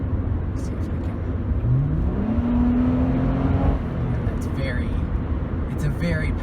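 A 2003 Honda Accord EX with a 3.0L V6 engine revs under full throttle, a rising engine tone climbing steadily while driving, heard from inside the car with road and cabin noise throughout.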